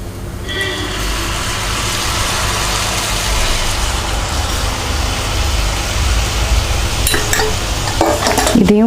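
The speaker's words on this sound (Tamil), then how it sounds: "இதையும் போட்டு நல்லா மிக்ஸ் பண்ணுங்கள்." Lentil and jaggery filling for kozhukattai being stirred and mixed in a pan, a steady, loud scraping and sizzling texture running throughout with a few sharper clinks near the end.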